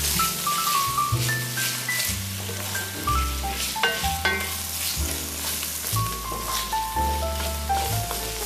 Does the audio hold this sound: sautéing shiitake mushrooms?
yes